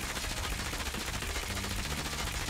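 Rapid SMG fire from Call of Duty Mobile, a dense, continuous stream of shots at steady loudness through the whole stretch, with no voices over it.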